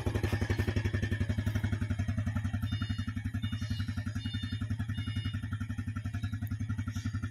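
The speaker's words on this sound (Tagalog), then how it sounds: "engine check tayo mga idol" A 2018 Yamaha Vega Force fi motorcycle engine, second-hand with about 11k on the odometer, idles close by with a steady, rapid low thumping pulse that holds even throughout, with no talk over it.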